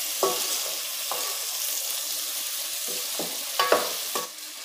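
A spoon stirs paprika (colorau) in a frying pan over a soft, continuous sizzle. Several distinct scraping strokes are spaced irregularly, close and clear, with no talking.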